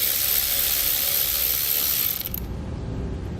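Ratchet wrench with a 10mm socket spinning a nut off a stud on a 2018 Jeep while fitting a battery charge line, a steady rapid clicking that runs close and loud for about two seconds, then stops.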